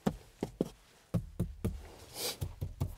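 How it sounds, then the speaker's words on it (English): Knocks and punches on the interior trim panels of a Honda Accord Hybrid, a string of about a dozen sharp, solid thuds in an irregular rhythm, close and fairly loud, with a brief rustle between hits. "let me do my usual punch test here to see if anything is loose."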